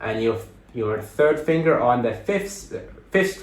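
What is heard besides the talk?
No everyday noises stand out.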